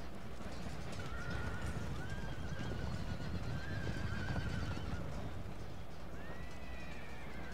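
Horses neigh during a cavalry battle in Empire: Total War, several whinnies rising over a dense, continuous roar of hooves and combat din at steady loudness.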